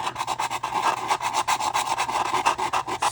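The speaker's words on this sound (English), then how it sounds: "So let's take a sanding block," A sanding block rubs back and forth on the plastic hull of a Tamiya Tiger I model kit, a close, rhythmic rasping scrape repeating in quick, even strokes.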